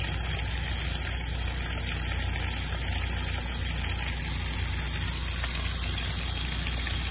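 Water rushing steadily through a FlowPro pump running at open flow, a continuous broadband gush with a constant mechanical hum underneath, loud and unbroken throughout.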